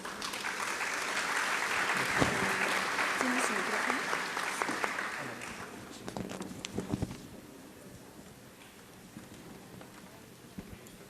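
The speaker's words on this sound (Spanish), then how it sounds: "Lo recibimos con un fuerte aplauso." Strong audience applause fills a hall at a national accreditation congress, a steady dense clapping that lasts about five seconds, then thins out into scattered claps and faint room noise.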